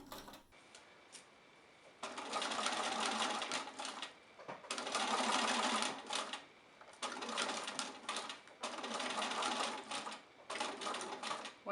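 A domestic sewing machine stitches a mermaid tote bag across fabric fins, running in several sustained bursts of rapid whirring broken by short pauses.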